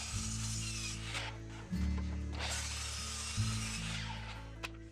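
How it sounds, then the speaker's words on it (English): A miter saw cuts a wooden desk board to length, a loud steady motor drone with a cutting surge partway through and a second surge later, running continuously at close range with no talk. "cut it to length with the miter saw"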